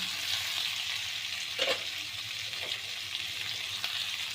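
Cauliflower curry with cumin, coriander, yogurt, ginger paste and chopped tomato fries in a pan with a faint, steady hiss and a few soft stirring scrapes.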